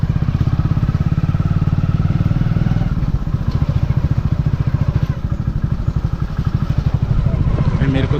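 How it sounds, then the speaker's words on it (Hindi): Motorcycle ridden off a path into dense forest near a village garden in Bihar, its engine putting along with a loud steady throbbing pulse and rattling clatter, close to the listener, with a voice speaking over it. "और अब ये घने जंगल में हम आ गए बाइक लेके।"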